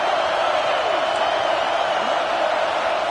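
A stadium crowd roars at a college football game, Ohio State at home during a defensive red zone stand, a dense and unbroken wall of noise with a voice talking over it.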